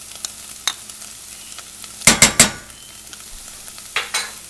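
Tomato paste stirred into browned onions and garlic for a beef lasagna sauce, soft sizzling under a quick burst of three loud spoon scrapes against the pan, then two more near the end, close with no voices.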